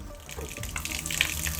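Hose water rushes and gushes through a gutter clogged with dirt and mud, a steady mid-level splashing flow that builds slightly in loudness, with no talk.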